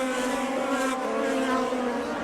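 Formula 3000 race cars scream past on the streets of Monaco in 2002, a sustained high-pitched engine whine that swells briefly, heard at moderate distance without talk.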